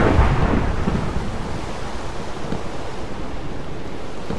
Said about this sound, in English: there's also a lot of thunder going on outside